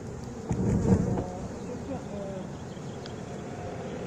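Honeybee swarm being gathered outdoors during a difficult swarm collection, a dense low buzzing hum that swells briefly near the start then settles into a steady drone, with faint background noise.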